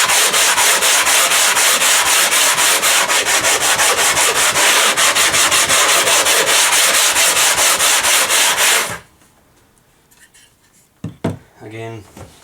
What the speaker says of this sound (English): And you can sand it this way as well if you clamp it down. Backwards and forward